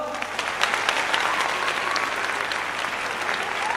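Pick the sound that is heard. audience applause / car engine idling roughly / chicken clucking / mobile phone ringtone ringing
audience applause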